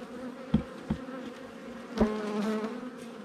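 Bees drone in a close, humming swarm, with individual insects buzzing loudly past at moments over a steady background hum.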